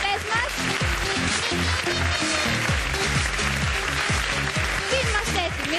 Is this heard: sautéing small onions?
no